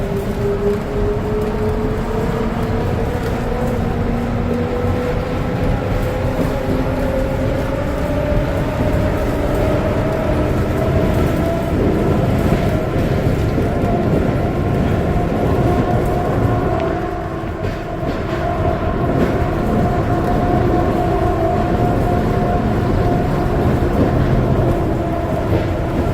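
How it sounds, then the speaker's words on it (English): An automated airport train hums and whines steadily as it runs, with a rising electric motor tone and constant rumble throughout, no talking. "This train is departing."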